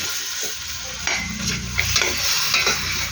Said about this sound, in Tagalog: Itong spices niya, hinalo-halo ko na ito guys.